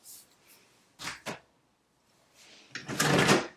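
A drawer is pulled open in a few short wooden scrapes and knocks, followed by a louder sliding rattle, close and fairly quiet.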